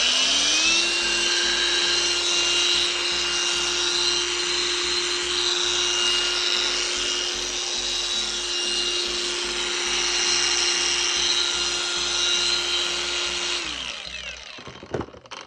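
A Revolt SET 351 cordless power tool from a kit with an angle grinder, impact wrench and drill-driver is test-run, giving a loud, steady high-pitched whine for about fourteen seconds before it cuts off.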